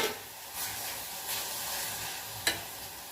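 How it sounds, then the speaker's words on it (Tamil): Onion and tomato sizzle steadily in a hot pan for moringa flower soup, with a few soft scraping stirs and one sharp clink of the spoon. "வெங்காயம் தக்காளி எல்லாத்தையும் போட்டு அதையும் அந்த ஹீட்லேயே கொஞ்சம் நம்ம நல்லா வதக்கலாம்"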